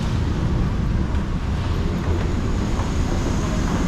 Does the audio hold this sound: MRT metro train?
yes